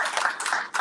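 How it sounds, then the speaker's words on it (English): An audience at a Black legislative agenda day event claps for a speaker. The short burst of hand claps is moderately close, with a brief dip partway through and no talk over it. "Clap it up for her."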